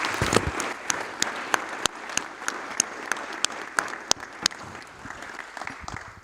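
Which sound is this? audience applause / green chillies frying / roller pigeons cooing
audience applause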